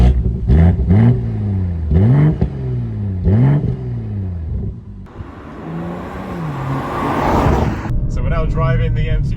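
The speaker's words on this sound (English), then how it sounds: "Driving the M240i." A BMW M240i accelerates hard through several quick gear changes, its engine note repeatedly sweeping upward, then settles into a rumbling road roar while people talk inside the car.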